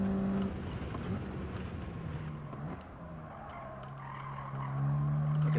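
Car tires skid and squeal as a car brakes too late in a Gran Turismo 7 time trial, a sustained scrub of tire noise over a steady engine drone that swells louder toward the end.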